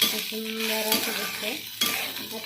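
Peanuts tossed into a hot pan for a spicy Maharashtrian chutney and stirred with a spoon, giving a close, steady sizzle broken by quick scraping strokes against the metal.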